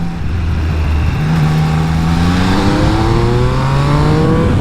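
A 2021 Triumph Speed Triple 1200 RS three-cylinder motorcycle pulls hard through the gears, its loud, close engine note rising in pitch, dropping briefly at a shift, then climbing again.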